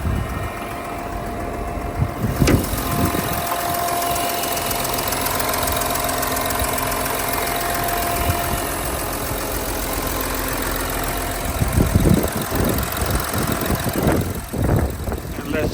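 A Volkswagen Touareg engine idles with the hood open, a steady mechanical hum and rattle running close and loud throughout, with brief knocks and handling noises near the end.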